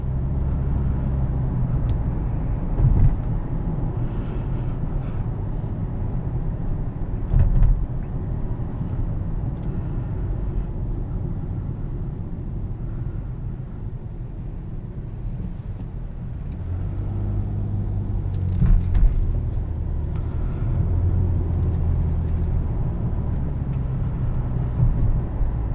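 A 2017 Nissan Maxima SL with a naturally aspirated V6 and CVT transmission drives along, producing a steady, loud low engine rumble and road drone that swells slightly a few times, with no talking.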